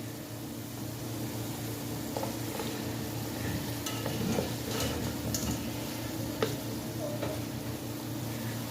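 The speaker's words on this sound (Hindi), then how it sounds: "पाए मैंने जो है वो मसाले में ऐड करके फर्दर इसकी 4 से 5 मिनट भुनाई करूँगी।" Mutton trotters (paya) being stirred and fried in cooked-down masala for yakhni paya, a steady sizzle with soft scraping stirs and a few faint clinks, no talking.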